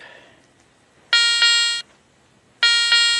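A Garrett Ace 400 metal detector sounds two loud, steady electronic tones, each about three-quarters of a second long and separated by a short gap, while it sweeps over a dug hole on an old 1850s dairy farm.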